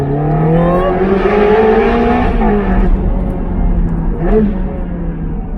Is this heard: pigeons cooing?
no